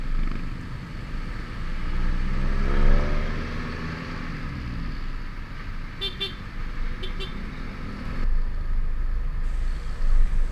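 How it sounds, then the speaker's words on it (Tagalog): Busy roadside traffic thick with jeepneys carrying workers and students, engines rumbling steadily as vehicles pass close by, with a rising pass-by around the middle and a couple of short horn toots later on. "Og diring dapita, daghang jeep karong orasa guys kay daghang pasahero"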